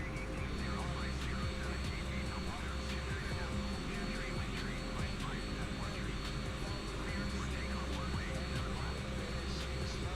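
Jet airliner engines spool up for takeoff from runway 7 left at Anchorage in MSFS 2020, a steady loud roar with a constant hum. A voice talks over it throughout.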